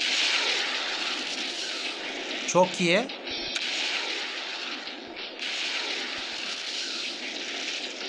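Airplane engines drone steadily in a video game mission, a continuous roar that briefly dips while a short burst of game sound and a brief spoken remark break through midway.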